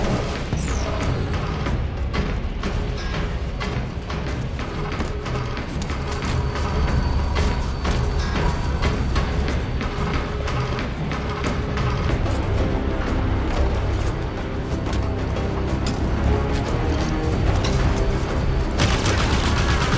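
Heavy combat in the Halo 5: Guardians video game as a cannon is destroyed, dense rapid gunfire, booms and mechanical clanks packed continuously together, loud and close, with no talk.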